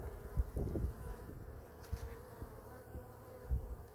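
Honeybees buzzing during a hive inspection at an animal sanctuary apiary: a steady, fairly faint swarm hum with a few nearer wingbeat swells and no voices.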